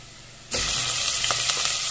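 After a brief quiet moment, pork hits hot oil in a cooking pot with a sudden loud sizzle that continues steadily, with a few small crackles and pops.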